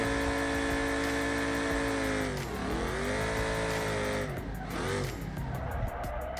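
Car drifting with the handbrake in BeamNG.drive: a steady engine drone that dips and rises as revs change, with tire squeal and skid noise, loud and close throughout.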